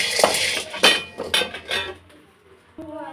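Dry peas rattling and scraping in a pan as they roast, in a short burst of clinking stirs that fades, then a light knock.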